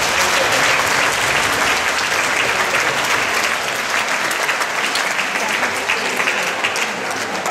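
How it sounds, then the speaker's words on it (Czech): Concert audience applauding at a Czech live music show: loud, dense and continuous clapping from a big crowd, holding steady throughout with a slight fade toward the end. "Tak pozbuďte, potleskem."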